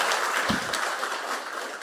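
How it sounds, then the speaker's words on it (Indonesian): Steady audience applause at a political gathering, a continuous wash of many hands clapping at moderate volume, with a brief low thump partway through. "Ayo tepuk tangan yang hebat ngono loh"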